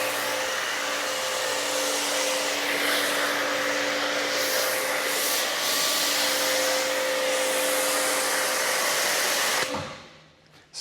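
Pressure washer with a foam cannon spraying a Tesla Model 3 Performance, a steady loud hiss and motor whine running continuously with no talk, then cutting off abruptly near the end.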